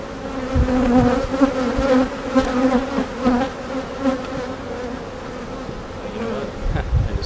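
A honeybee colony at an open hive during an inspection and split hums in a dense, steady buzz close by, with individual bees droning past and faint knocks of hive equipment.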